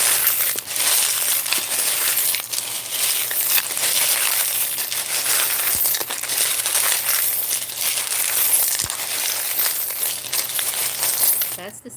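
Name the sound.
charms being mixed together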